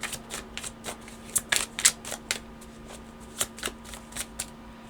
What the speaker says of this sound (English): let's pull some love cards